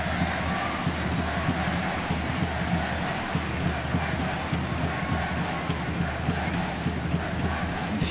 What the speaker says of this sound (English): Enthusiastic crowd here getting behind the women's team.